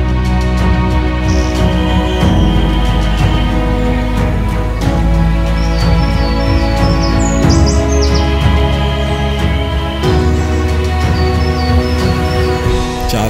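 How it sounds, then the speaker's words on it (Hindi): Small birds chirping and tweeting near a waterfall in Balochistan, bright repeated calls over a steady roar of rushing water that fills the scene throughout. "चारों तरफ परिंदों की चहचहाने और पत्तों के सरसराहट ने एक हसीन समा बांध रखा था।"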